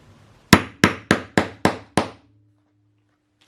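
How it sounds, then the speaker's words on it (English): Six sharp hammer blows on plastic milk-bottle and leather-look card layers in quick, even succession, loud and close, followed by silence and the start of another strike. "and press it over with a hammer."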